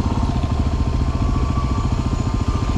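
A Yamaha TW motorcycle idles close by in a Telluride mountain town, its single-cylinder engine giving a steady, loud, rapid thumping pulse that holds without letup.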